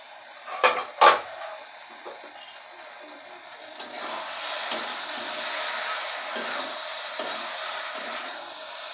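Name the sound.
pot lid being removed after simmering spinach and prawns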